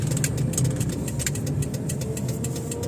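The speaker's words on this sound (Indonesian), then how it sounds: "Mesinnya juga nggak ngegerung banget" A 2002 Toyota Soluna GLi engine runs at a smooth, even idle-like hum, moderately loud and steady without revving or roaring, with faint ticking clatter on top.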